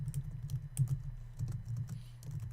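Steady typing on a computer keyboard, with close, irregular key clicks and thocks continuing throughout with no talk.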